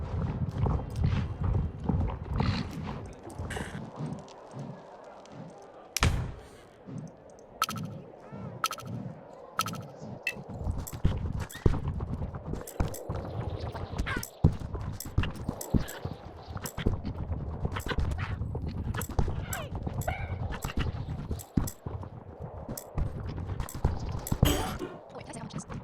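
Rapid horse hooves clip-clop through a show jumping course in the video game Winter Village, with irregular hoof beats and sharp impacts over a busy game soundscape.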